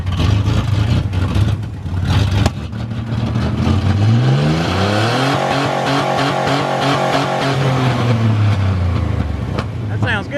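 A truck engine running after a battery change, idling steadily then revving up and settling back down in a smooth rise and fall, close and loud with some handling noise.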